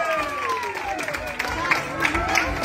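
Clapping and cheering from a family audience at a celebration for a civil firefighter, a lively crowd noise mixed with overlapping voices talking throughout.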